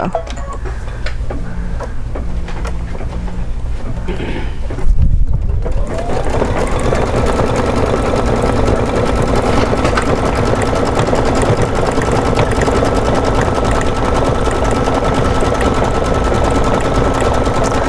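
A Kimberbell embroidery machine stitches with a dense, rapid mechanical chatter; after a brief quieter stretch it runs steady and loud and close.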